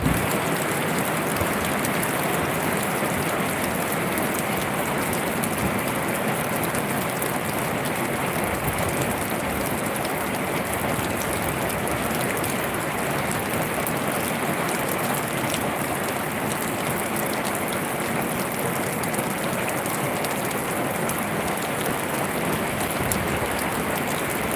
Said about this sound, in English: It always sounds so dramatic under the tin roof here.